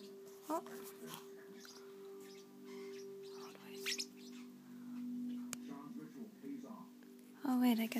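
Pet birds indoors give scattered short chirps and tweets while a person talks softly nearby, with a steady low hum underneath.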